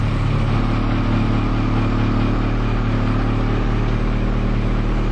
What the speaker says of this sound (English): 9-liter diesel